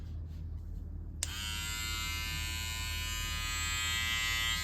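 A Supreme Trimmer Vader cordless hair trimmer with an NiMH battery, rated at 7,000 RPM, switches on after a moment of low background noise and runs as a steady, bright, powerful buzz close to the mic.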